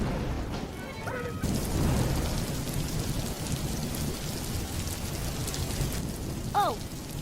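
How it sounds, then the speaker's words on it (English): Steady rain falls while a low roll of thunder swells early on, with a few brief chirpy tones drifting over the wash of the downpour. "The first rumble of thunder didn't startle her."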